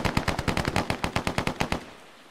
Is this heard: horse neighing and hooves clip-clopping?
no